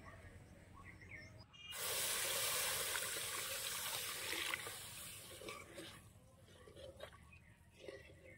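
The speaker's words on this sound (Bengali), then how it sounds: "এখন আমি 1 বাটি দুধ দিয়ে দেব।" Milk pours from a bowl into fried semolina in a pan, a sudden close hissing sizzle that bursts loud for a few seconds, then eases into softer bubbling and crackling.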